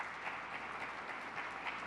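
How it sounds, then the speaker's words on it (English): Steady, moderately quiet applause from an audience at a public safety update by New York's governor, a continuous even wash of clapping with no voices. "Let's give a round of applause for"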